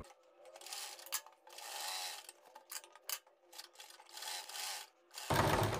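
A sewing machine stitches the edge seam of a kurti's button placket on a tabeez-style neckline, its motor whirring in steady bursts with brief pauses, close and moderately loud, then a sharper clatter at the end.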